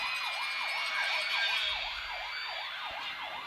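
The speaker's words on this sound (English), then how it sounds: "there goes the Yellow Jacket and the four-wheeler over there that sounded off the siren in front of the crowd" A wailing siren from a four-wheeler at a high school football game between Batesville and Wynne rises and falls in quick regular sweeps, loud and close, over a crowd murmur.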